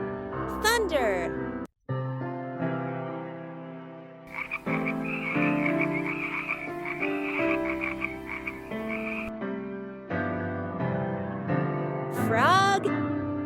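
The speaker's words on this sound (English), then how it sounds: "Frog." A frog croaks in a long, steady run of rhythmic, throaty calls, close and clear, with short rising tonal sounds at the start and end.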